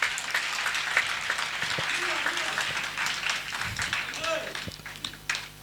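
A church congregation claps together through a sermon, a dense, steady wash of hand claps that holds across the whole stretch with voices mixed underneath.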